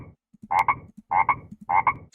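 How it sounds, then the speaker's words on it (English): Frogs croak in a chess game's sound effects, three evenly spaced double-pulsed croaks, each with a soft lead-in click, loud and clear with no talk over them. "Frogs."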